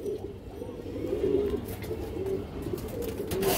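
Pigeons with eggs and chicks in a loft coo softly, with low, repeated throaty coos that are faint and close, over a murmur of background noise.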